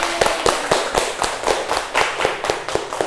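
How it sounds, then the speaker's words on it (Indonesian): Students in a classroom clap in a crisp, regular rhythm of about four sharp claps per second, loud and close, with no talking over them. "Oke, beri tepuk tangan."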